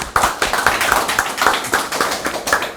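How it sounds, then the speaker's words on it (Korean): An audience breaks into applause to welcome a speaker at a literary and arts society presentation, a brisk run of hand claps in an even rhythm, fairly close and lively. "자, 박수로 맞아주십시오."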